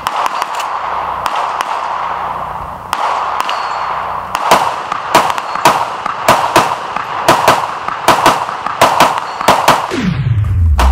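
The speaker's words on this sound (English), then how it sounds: "Shooting the C308 from Century Arms." Rapid gunshots crack from a Century Arms C308 rifle, loud and close, fired in an irregular series of sharp reports that get faster toward the end before a final ringing fade.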